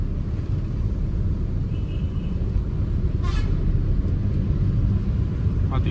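A car driving slowly through light traffic on a road as an oncoming vehicle passes, with a constant low engine and road rumble and a short faint horn toot midway.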